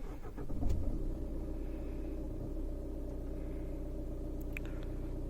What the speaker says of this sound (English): So that is how the engine sounds like